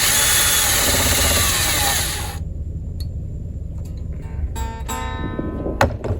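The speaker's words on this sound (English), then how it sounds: "Now I use the drill." A power drill whirs steadily for a couple of seconds winding strings on a 1995 Fender Stratocaster '62 Reissue, then cuts out, followed by scattered clicks, rattles and faint mechanical handling noises.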